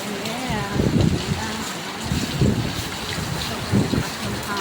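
Strong wind roars and buffets the microphone in rumbling gusts, with a constant rushing background.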